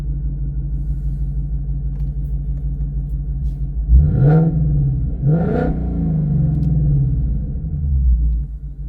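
A Ford Mustang Dark Horse V8 with a Corsa Xtreme exhaust in normal mode idles with a deep, steady rumble, then gives two sharp throttle blips that rise and settle back, loud and close.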